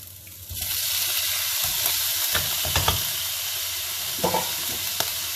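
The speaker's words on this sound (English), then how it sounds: "once it's been frying for a while, the next ingredient you put in will be the cuttlefish" Cuttlefish sizzles and crackles in a hot wok while being stir fried, with a few sharp clinks and scrapes of a utensil against the pan.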